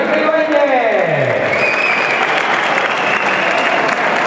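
Sustained audience applause at a gravel rally trophy ceremony in Lorca, Murcia, a steady wash of clapping from a crowd after the champions receive their trophy.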